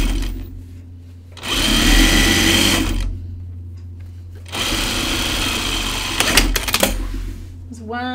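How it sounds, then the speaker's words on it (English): A sewing machine stitches the underarm seam of a jacket in two sustained loud bursts of motor whir, separated by a pause with handling noise and a few clicks near the end. "I'm going to sew the underarm seam and then I'm going to sew my underarm seam on the jacket"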